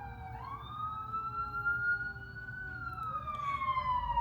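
Emergency vehicle sirens outside, heard faintly and at a distance: long rising and falling wails with overlapping tones that drift in pitch, set over a low background rumble, with no talking.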